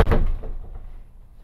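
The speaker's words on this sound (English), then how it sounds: "I'm just going to shut the door." A door is pushed shut in an office during an interview, making a single close, solid thud that dies away over about a second.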